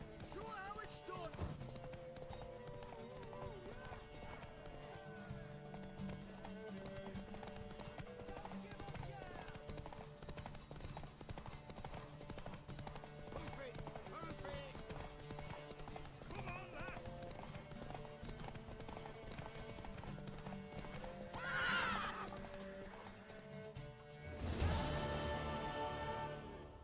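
Horse hooves clip-clop in The Witcher 3 during a mare race, a steady galloping rhythm running under game music and voices, with a louder burst near the end.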